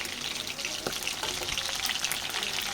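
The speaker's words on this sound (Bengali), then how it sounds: "আর এখানে দেখো আমি চা খাবো বলে কটা পকোড়া ভেজে নিচ্ছি" A few pakoras deep frying in oil for tea time, giving a quiet, steady crackling hiss with faint pops throughout, with no voices.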